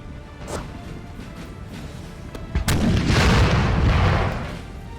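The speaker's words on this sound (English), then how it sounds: "They might be going for canister shot." Artillery firing canister shot in Napoleon: Total War, a few distant thumps followed by a loud, sustained burst of booming and crackling shot that swells and fades over a couple of seconds.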